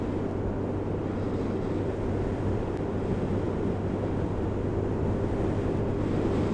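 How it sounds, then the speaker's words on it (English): Steady wind roars and buffets the microphone during a winter scooter ride, a constant broadband rush with a low engine drone underneath and no talking. "It's a little bit windy today."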